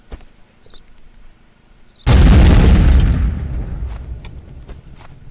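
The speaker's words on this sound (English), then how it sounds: "B-52, I need another bombing run ASAP." A loud, sudden explosion from a B-52 bombing run in a video game bursts in after quiet background noise, then rumbles and slowly decays over several seconds.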